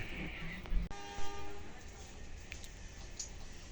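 A Gaya Baru Malam Selatan passenger train arrives at a station, a low rumbling approach with a steady horn tone held for about a second, then the rolling noise of railcars continuing.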